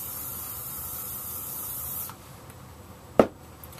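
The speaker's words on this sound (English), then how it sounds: "you'll want to spray the tree real well with hairspray" A steady hiss of hairspray sprayed onto an N scale model tree over a garbage can runs for about two seconds, then stops, followed by quiet and a single sharp click or tap.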